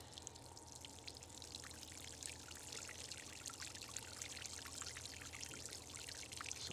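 Steady stream of water pouring onto newly planted globe artichokes to soak the soil, a continuous splashing trickle held at an even level throughout, close by with no talking.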